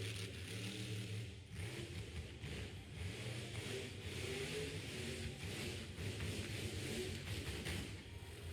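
A mud truck's engine at a motorsports mud bog, a rough, struggling drone with a low, uneven throb, heard from a distance and fairly faint, with no talking.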